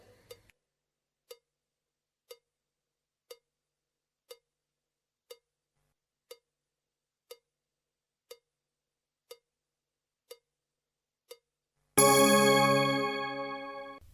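Faint, evenly spaced ticks sound about once a second in near silence for roughly twelve seconds, then a loud bright bell or chime rings out and slowly fades, marking the turn in a classroom exercise.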